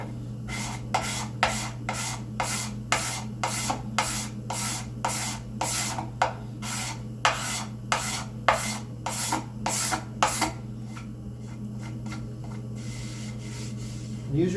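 Sandpaper scrubbing a wooden spice rack part to rough up the surface, about twenty rhythmic back-and-forth rasping strokes over a steady low hum, stopping near the end.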